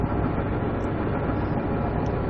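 A locomotive in the Railworks train simulator rumbles with a steady low engine drone and rail noise. It stays constant and fairly close, with no talking.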